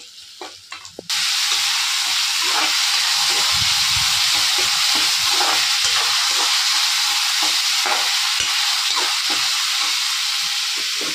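Tomatoes hit a pan of frying onion, green chili, garlic and ginger, launching into a loud, steady sizzle and hiss that continues without pause, with occasional stirring scrapes and no voices.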